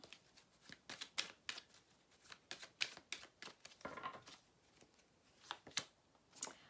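Tarot cards riffled and snapped down one after another, a quiet run of crisp papery flicks and soft slaps at close range.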